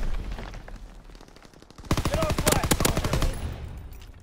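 Video game gunfire: a rapid burst of many sharp shots, close and loud, runs for about a second and a half over a low background rumble.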